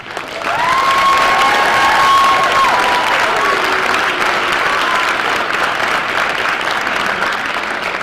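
An audience in an elementary school auditorium applauds and cheers for first graders after their musical, a loud, dense, sustained wave of clapping with a few whoops, fading slightly near the end.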